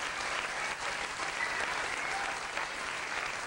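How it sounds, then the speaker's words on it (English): Steady clapping from a large ballet audience, a dense even wash of applause continuing throughout at moderate distance. "everyone in the audience is applauding"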